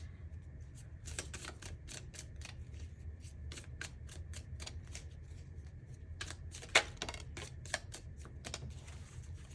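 A deck of tarot fortune cards is shuffled in repeated quick riffling bursts, crisp papery flutters coming in clusters with brief pauses, close and fairly quiet against a low background hum.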